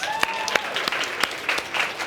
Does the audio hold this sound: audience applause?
yes